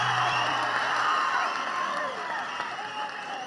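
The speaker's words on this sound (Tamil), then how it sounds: "மீண்டும் ஒரு முறை ஓங்கி கைகளை தட்டுமாறு நான் கேட்டுக்கொள்ள விரும்புகிறேன்" A large crowd at a Tamil political rally and birthday stage event claps hard and continuously, a thick wall of applause with scattered cheers that slowly thins toward the end.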